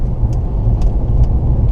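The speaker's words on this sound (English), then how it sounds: "driving a beautifully twisty road just to see how well this car does in the twisties with the handling and the stuff" A 2017 Infiniti Q50 with the 2.0-litre turbo engine driving a twisty Southern California road, a steady, loud low engine drone and road rumble heard from the cabin, with no speech.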